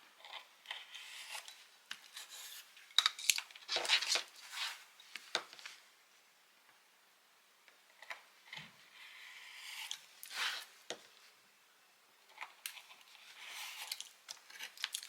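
Scissors snip through material to cut out four triangular pieces of a box project, quiet close bursts of cutting and rustling separated by short pauses.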